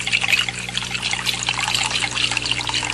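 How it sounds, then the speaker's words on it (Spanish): Water poured from one container into another of a different size and shape, a close, continuous splashing trickle running steadily for several seconds with no voices. "vacía el agua en otro recipiente de distinto tamaño y forma."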